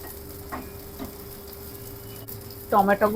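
Onions fry in a pan with a soft, continuous sizzle in a home kitchen, faint and steady beneath brief kitchen clatter, with a person starting to speak near the end.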